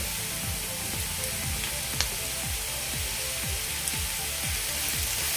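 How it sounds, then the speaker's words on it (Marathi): Chopped tomatoes sauté with onion in a pan, a steady close sizzle with soft rhythmic scraping strokes of stirring repeating about twice a second, no voices. "टोमॅटो आपला सॉफ्ट होईपर्यंत आपण परतून घ्यायचा"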